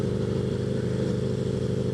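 Aprilia RSV4 Factory motorcycle engine running steadily and loud, a dense rumbling drone with constant throttle and no pauses across the whole stretch.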